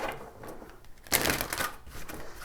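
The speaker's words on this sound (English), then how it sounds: "And I'm dropping the cards." A deck of tarot cards drops onto a table in a quick, papery slap and flutter midway through, set against a soft rustle of handled cards before and after.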